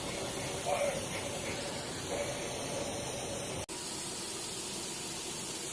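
Steady, loud rushing hiss of steam venting from a pressure canner holding green boiled peanuts, continuous throughout apart from one brief dropout.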